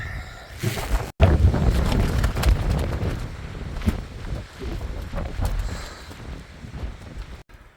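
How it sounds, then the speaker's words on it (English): Strong wind on a cold, rainy mountain peak buffets the microphone in gusty, roaring rumbles, loud and continuous with no voices. "Cloudy day, windy, rainy, cold."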